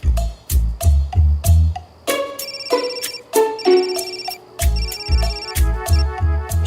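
A mobile phone ringtone plays loudly and repeatedly, with bright ringing tones and a thumping beat that pause briefly and start again, several cycles in a row with no talk.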